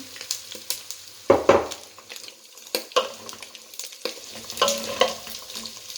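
Bell peppers and onions frying in a pan, with a soft crackle broken by intermittent scraping and clattering stirring strokes, fairly close and moderately quiet.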